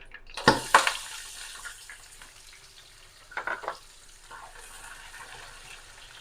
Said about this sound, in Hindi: अब इसी ऑयल में हम बड़ी इलायची और दालचीनी डाल देंगे और साथ ही प्याज शामिल कर देंगे।